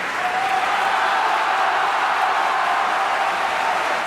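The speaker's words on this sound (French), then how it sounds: "tout le monde dans la salle applaudit" An opera house audience at Donizetti's Lucia di Lammermoor applauds, a dense, even wash of many hands clapping held steady at full strength throughout, with no talk.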